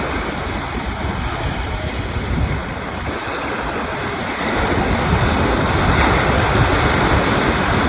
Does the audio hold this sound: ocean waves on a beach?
yes